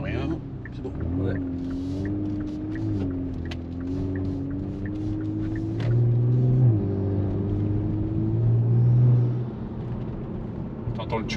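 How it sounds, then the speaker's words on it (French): Turbocharged engine of a Kia Stinger GT under acceleration, a steady low rumble with a rising whine and brief surges in loudness, with people talking over it inside the car. "T'entends le turbo, hein?"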